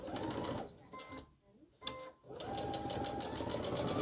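A sewing machine stitches a Halloween bat quilt block, its fast whirring bursts running loud, pausing briefly midway, then resuming steadily close by.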